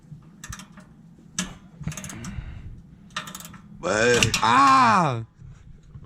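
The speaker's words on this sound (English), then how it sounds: "We're gonna use this wrench right here, bro." A wrench turning a bolt on the exhaust of a 2005 Acura RSX Type S during a muffler delete gives short bursts of metallic ratcheting clicks, then a long strained vocal groan, with talk heard in the background.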